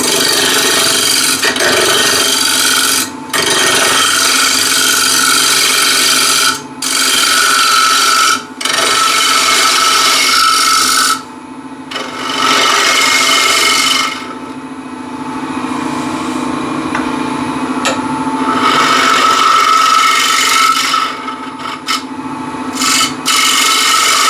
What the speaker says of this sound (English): we're going to make a tenon on this side real quick